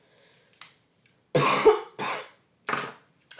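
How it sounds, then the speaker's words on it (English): A person coughs close to the microphone in several sharp, separate bursts with quiet gaps between them, and no talking is heard. "I didn't mean to make a whole video where I was coughing."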